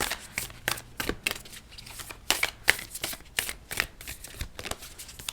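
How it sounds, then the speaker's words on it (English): Tarot cards being shuffled close by during a reading, a rapid series of crisp riffling snaps and soft slaps in an uneven rhythm, with no voices over them. "Let's pull another card for you."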